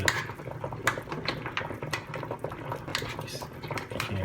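Shrimp being stirred in a pan as they cook: light metallic scrapes and clinks of a utensil against the pan over a soft sizzle, close and fairly quiet, with a few sharper taps.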